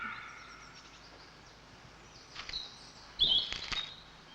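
Small woodland tits, coal tit and marsh tit, giving thin high chirping calls, faint at first and then a few sharper, louder calls near the end over a quiet outdoor background.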